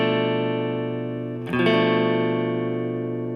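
A sustained half-diminished electric guitar chord rings out, then a second strummed chord cuts in midway and sustains, slightly brighter, with a tense, dissonant color.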